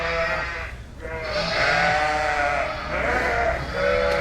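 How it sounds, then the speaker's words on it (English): An agitated ewe at lambing time gives loud, sustained, wavering bleats from close by, one long call followed by a second drawn-out cry. "And that ewe over there, right there, she is one agitated ewe."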